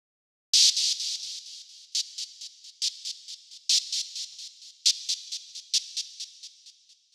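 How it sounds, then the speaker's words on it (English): Staccato white noise notes fed through a tempo-synced delay: a sharp hissy burst followed by a train of repeating echoes, with fresh hits recurring roughly every second as the trail slowly fades, alone and fairly close. "I changed all the notes to being these, like, you know, staccato type notes. And then I put a delay on it."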